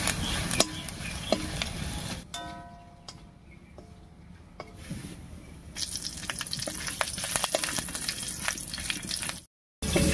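Slit green chillies fry in oil with ginger, cumin and whole spices, making a soft continuous sizzle with scattered ticks and clicks. A brief tonal hum rises midway before the frying noise swells again, then it cuts off near the end.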